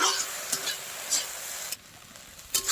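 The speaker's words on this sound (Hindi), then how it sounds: "नमक देने के बाद अच्छे से मिक्स कर लेंगे।" Pork with fermented bamboo shoots being stirred and mixed in a pan, a steady close sizzle with a few sharp scraping clinks of the spoon against the metal, quieter for a moment near the end before another scrape.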